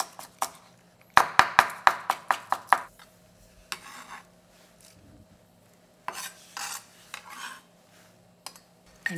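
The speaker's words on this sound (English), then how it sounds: "Chop it up." Knife chopping green onion on a cutting board: a fast series of about ten sharp, close taps, then scattered knocks and rustling kitchen sounds.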